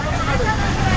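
Busy road traffic at Kollur where traffic is being stopped, with buses and autos nearby: a dense, loud wash of engine rumble and road noise, with people talking over it.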